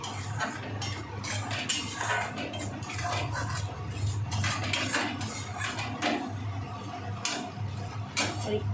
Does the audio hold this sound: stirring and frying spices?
yes